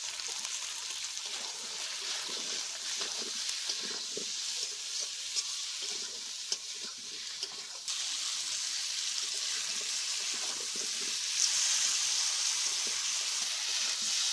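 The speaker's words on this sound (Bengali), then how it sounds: "আলুগুলো ভাজা হয়ে গেল" Potatoes sizzle steadily in hot oil for a Bengali snakehead fish curry with eggplant, a continuous close frying hiss with occasional stirring scrapes and no talk.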